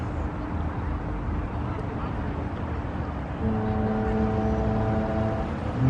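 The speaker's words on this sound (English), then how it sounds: "Sounds like a boat's coming, huh?" A boat passes on the water along a San Francisco bayside walkway, its low steady engine drone and horn-like tonal hum rising partway through over continuous wind and ambient noise.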